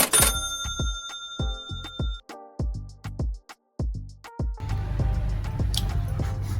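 A phone rings with a bright, repeating electronic melody of chime-like notes, fairly close and clear, before giving way to rustling handling noise.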